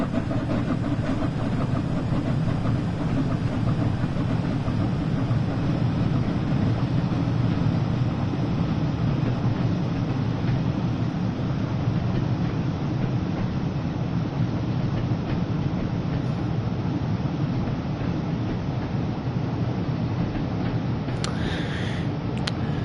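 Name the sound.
Flying Scotsman locomotive at full power, Train Sim World 4 video game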